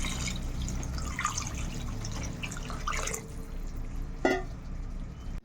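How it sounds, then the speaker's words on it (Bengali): Water goes into a pan of potatoes frying with turmeric and salt, bringing a few seconds of splashing and trickling over a low sizzle, with a sharper splash near the end. "এবার দিয়ে জল দিয়ে দেবো।"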